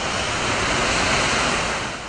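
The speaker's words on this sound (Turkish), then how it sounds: "Antalya'da ise şiddetli lodos vardı." Strong lodos wind in Antalya, gusting up to 82 km/h, roars together with crashing waves in a dense, unbroken wash of noise, loud and close.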